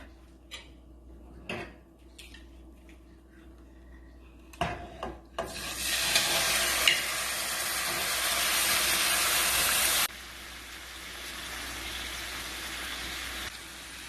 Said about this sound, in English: I have here a heated pan, and I'm going to add a couple tablespoons of oil. And we're going to cook the shrimp.